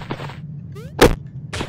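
A single loud pistol shot bursts out in the SuperFighters video game, preceded by a short rising whoosh and surrounded by quieter game sounds.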